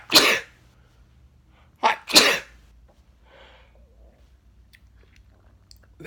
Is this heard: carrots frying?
no